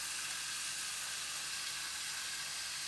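Green chillies sizzle in a hot pan while a mushroom biryani is being made, giving a soft, steady hiss that goes on without a break and ends in a small click.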